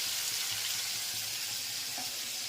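Spice tempering sizzles in hot oil for undhiyu, a mixed vegetable dish, heard as a dense, even hiss close to the pan, steady for the whole stretch with no voices.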